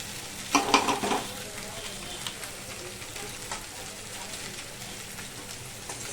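Cumin, ginger paste and chili powder frying in a pan for a catla fish and potato curry, with a brief burst of stirring and sizzle early on, then a faint steady hiss with occasional light scrapes.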